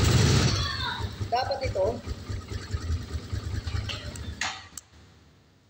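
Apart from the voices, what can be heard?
motorcycle engine being started and idling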